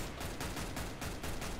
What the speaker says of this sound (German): Hört man doch, wo die Schüsse herkommen